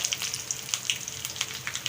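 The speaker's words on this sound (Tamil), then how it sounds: "ஃபஸ்ட்டு நம்ம இதில் கடுகு சேர்த்துக்கலாம் கடுகு வந்து நல்லா வெடித்ததும் கொஞ்சமாக கருவேப்பிலை சேர்த்துக்கலாம்" Mustard seeds and curry leaves tempering in hot coconut oil, a quiet crackling sizzle with scattered sharp pops as the seeds burst, close by and alone.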